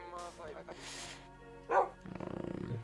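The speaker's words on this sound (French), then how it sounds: "C'est un chien." A dog barks in a video game, a few sharp barks followed by a low growling rumble, with someone talking over and between the sounds.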